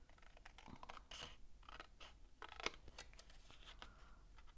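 Scissors snip through cardboard in a string of short, quiet cuts, close by and faint, with no talking.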